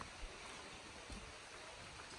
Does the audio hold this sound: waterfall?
yes